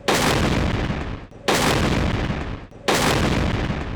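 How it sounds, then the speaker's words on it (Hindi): Three heavy artillery booms from a 21-gun salute for the Emir of Qatar, evenly spaced about one and a half seconds apart, each with a long rumbling decay. "मुअज़्ज़िज़ मेहमान की आमद पर JF-17 थंडर तैयारों ने सलामी दी, जबकि 21 तोपों की सलामी भी दी गई।"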